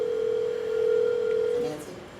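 A telephone ringback tone sounds during an outgoing call, one long steady tone held for nearly two seconds before cutting off, followed by faint room noise.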